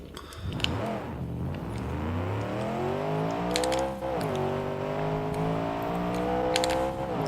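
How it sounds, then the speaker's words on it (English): Car engine in BeamNG.drive revving hard with a beefy aftermarket exhaust, a loud continuous growl that climbs in pitch, dips briefly, then rises again, with faint clicking in the background and no talk. "It's a pretty beefy engine."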